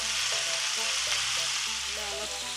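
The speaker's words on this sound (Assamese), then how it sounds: "অলপ মাংসবিলাক হ'ল মানে ভাজি ল'লোঁ" Marinated chicken pieces fry and sizzle in a pan, with steady crackling under a soft layer of background music.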